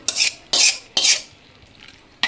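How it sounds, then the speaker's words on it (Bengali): Meat is being stirred into rice for biryani in a large pot, with three quick scraping strokes in close succession, a pause, then the start of a fourth. The strokes are close and moderately loud, and no one speaks. "এখন এই যে এটার সাথে গোস্তটা মিলাই দেওয়া হইব এখন"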